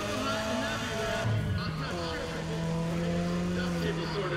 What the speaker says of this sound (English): I'm completely driving with a handbrake here and drifting around corners